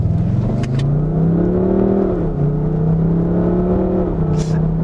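BMW M550d F10 diesel engine fitted with a simulated M5 V8 sound, revving steadily with a deep droning note that rises and falls slightly, loud and continuous, with brief voices faintly underneath.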